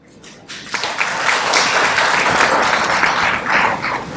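An audience claps in welcome for distinguished guests seated on a stage, the applause swelling after a quiet start and holding steady, dense and sustained with no speech over it.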